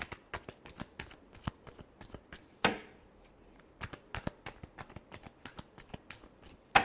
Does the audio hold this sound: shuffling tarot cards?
yes